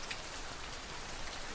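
Raindrops falling in an ASMR recording, a steady, soft hiss of rain on a surface, continuous and even with no voice.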